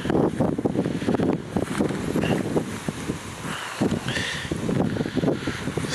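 Gusty wind buffeting across an open field where horses stand in a lowland, rough rushing noise that rises and falls in bursts, close and fairly loud, with no talking.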